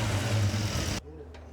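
A car engine fitted with Holley Sniper 2 EFI revs loudly and holds high for a second, then cuts abruptly to a quiet low idle, with a voice speaking briefly.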